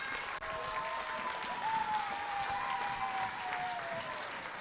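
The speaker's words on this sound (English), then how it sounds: "give them a super round of applause before we start, please" A primary-school audience fills a school hall with sustained, even clapping that holds steady from start to finish, joined by a faint whistling tone.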